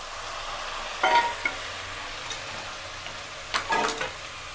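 Potatoes and chickpeas fry in a pan with a low steady sizzle, broken by two short bursts of scraping as a spoon stirs them.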